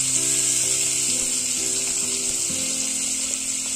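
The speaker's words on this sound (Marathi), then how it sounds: "ह्या तेलामध्ये कांदा छान परतून घ्यायचा, ब्राऊन कलर येईपर्यंत।" Onion and green chilli frying in oil in a pan, a steady close sizzling hiss that holds evenly throughout with a faint background hum.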